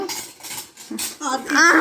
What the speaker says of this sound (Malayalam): മേമ പാത്രം എടുക്കുന്നു